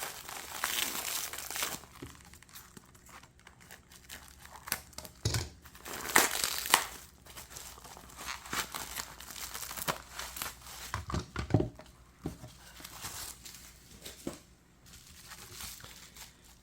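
Plastic packaging around trading cards crinkles and crunches in close, irregular bursts, with a few sharper crackles between quieter handling.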